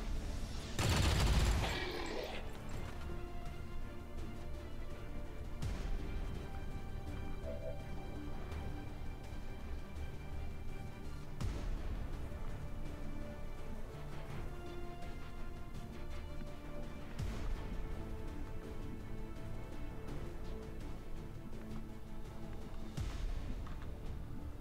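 Gunfire in XCOM 2: Long War 2, with one loud close blast at the start followed by scattered distant shots and thuds over a low game soundtrack, with no talk.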